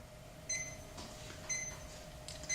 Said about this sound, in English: And there we go, there's the alarm.